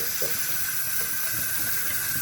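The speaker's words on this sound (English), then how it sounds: "Take the hot water out, and then we put some cold water in there." Cold water runs steadily from a tap into a cooking pot in a kitchen, a continuous close hiss and splash with no talk.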